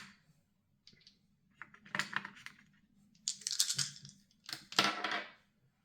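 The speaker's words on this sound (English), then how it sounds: "he tells me to use the dice for you." Dice rolled during a tarot-style reading, a few short bursts of light clattering and rattling on a surface, separated by brief pauses, close and fairly quiet.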